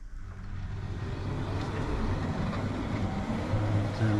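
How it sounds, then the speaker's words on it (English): Steady low rumble and clatter of a train running nearby, continuous and fairly loud throughout, with no talking. "the train does work, as you can probably hear"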